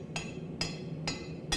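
A hammer strikes a pattern-welded billet during forging, four sharp evenly spaced ringing blows about half a second apart, close and loud over a low shop hum.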